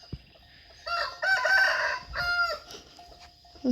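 A rooster crows loudly nearby in a few drawn-out bursts, with quiet gaps between them and a short sharp noise at the end.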